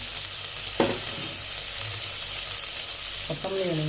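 Mint and coriander leaves sauté with ginger garlic paste in a pan, giving a steady loud frying hiss throughout, with a couple of brief voice sounds over it.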